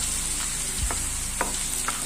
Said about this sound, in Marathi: कांदा फ्राय करायचा आहे, चांगला त्याला गुलाबी रंग येईपर्यंत त्याला भाजून घ्यायचं आहे